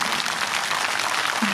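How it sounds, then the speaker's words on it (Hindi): Audience clapping at a Shrimad Bhagwat Katha religious gathering in Rohtas, Bihar: a dense, steady wash of applause from many hands lasting the whole short stretch, with no one speaking. "जोरदार ताली बजा दो सबके लिए"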